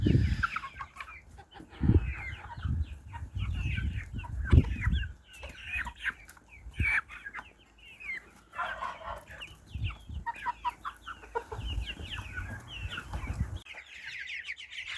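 Chickens cluck and chatter around a poultry yard, a cross R3A hen among chicks from crested crossbred hens, with overlapping calls, high peeps and a rooster's crow mixing close by.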